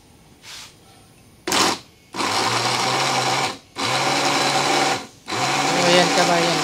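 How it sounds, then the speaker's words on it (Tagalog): A blender blending jackfruit whirs in several loud bursts, starting with two short pulses and then three longer runs separated by brief pauses, close by. "tama muna yan at i-blender natin kabayan"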